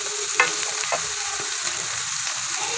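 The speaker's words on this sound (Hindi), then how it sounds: "देखिए मीडियम फ्लेम पे इसे हमने हल्का फ्राई कर लेना है" Onions sautéing over a medium flame in a pan for a black pepper chicken karahi, a steady continuous sizzle with a few soft stirring scrapes and clinks, close and alone.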